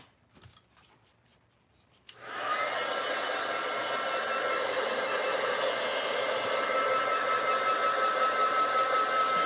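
A hair dryer drying glue on a Dollar Tree butterfly frame switches on after a couple of seconds of faint handling noises, then blows with a steady, loud, close whooshing roar to the end.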